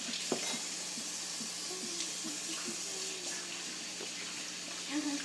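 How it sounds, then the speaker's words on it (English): A kitchen tap runs steadily while hands are washed beneath it, a constant hiss of splashing water with faint clatter in the background and no clear talk. "So I'm gonna wash my hands again."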